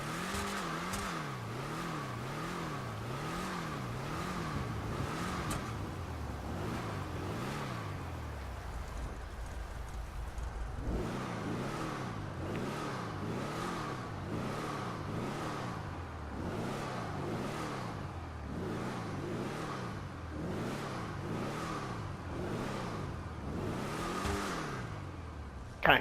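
Declasse Tornado Rat Rod in GTA V revving hard in pouring rain, its engine repeatedly climbing and falling in steady wavering surges, sticking near the limiter, with a brief lull midway and rain hiss throughout, no voices.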